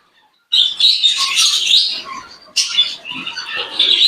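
Baby spangle budgie chicks, show-type young budgerigars, give a dense chorus of high, raspy begging chirps and squawks, close and loud, starting after a brief silence with a short pause midway.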